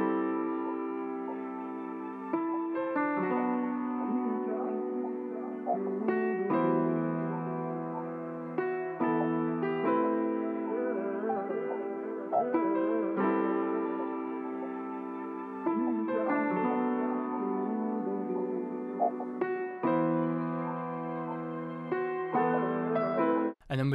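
A vintage sample pitched down three semitones plays as a dark, sustained chord progression drenched in reverb and delay, with smooth shifts every few seconds, steady and fairly quiet, ending in a sudden cut with no voices.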